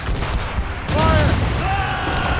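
Ship cannons firing during a naval battle in Assassin's Creed Rogue, a dense rumbling barrage of booms with a crew voice shouting over the gunfire.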